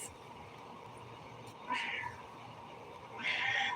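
A Siamese cat meows twice in the background, faint and distant, with a quiet room hum and no talk.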